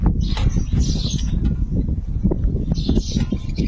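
Small birds chirp and twitter in short high bursts outdoors at a village home in the Sundarbans, fairly near, over a steady low rumble of background noise.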